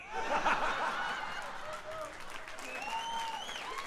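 A live comedy roast audience claps in a short burst that fades, with scattered chuckles and a voice talking over the tail end.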